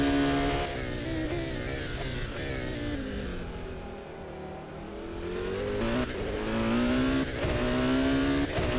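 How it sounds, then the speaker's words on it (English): Onboard engine of an endurance race car in a racing simulation at Magny-Cours, droning loud and steady, with pitch sweeps as it revs up, eases off through a corner, and climbs again. "just listen to the awesome engine sound of this car"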